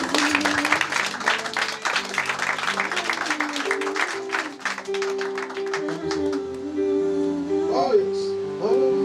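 A church congregation claps and calls out in praise, dense scattered applause with voices rising over it, fading toward sustained singing-like tones near the end.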